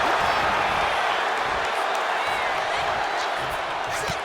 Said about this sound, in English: Cena will try to gain strength from this capacity crowd in Kansas City